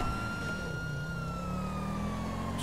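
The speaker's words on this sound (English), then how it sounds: "Let's go ahead and get our siren back on." A police siren from an unmarked Charger in GTA 5 wails continuously in a slow, smooth rising and falling tone, loud and steady over a low engine-like rumble.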